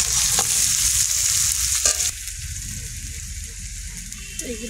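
Bay leaves hit hot oil in a pan with a loud, close sizzle that bursts at first, then drops to a softer, steady frying hiss.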